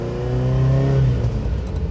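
A high-mileage Ferrari makes a quick takeoff, its close, loud engine note rising in pitch and then dropping as it shifts, all within two seconds.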